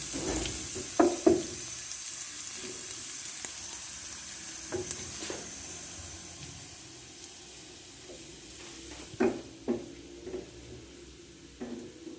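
Oil tempering for moong masoor dal browns in a pan with a steady, close sizzle. Occasional sharp clinks and scrapes of a stirring spoon break through, and no one speaks.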